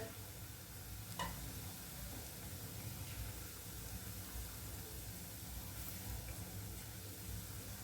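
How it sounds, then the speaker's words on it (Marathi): Ridge gourd bhaji frying in a pan of oil, a dense, even sizzle and bubbling hiss that holds steady throughout, close and unbroken, with no talking. "अशा प्रकारे मस्त तेलामध्ये सगळी भजी मी सोडून घेतल्यात"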